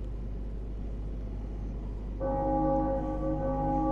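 Church bell tolling in the game Bloodborne: a bright, sustained ringing tone with long harmonic decay rises suddenly over a low ambient rumble midway through and rings on to the end.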